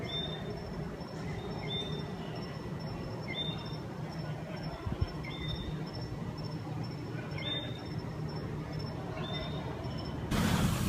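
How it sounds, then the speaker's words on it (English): Small frogs calling outside at night in Bermuda, faint, evenly spaced high chirps repeating every second or two over a steady low background hum, with no talking. "You can hear these little frogs out there"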